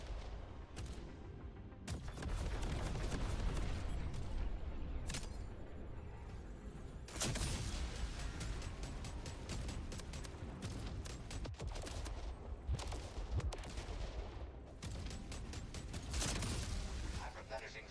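Sustained, dense gunfire in the Jump Space video game, with heavy bursts and booming blasts rolling almost without pause, and a voice speaking beneath the barrage.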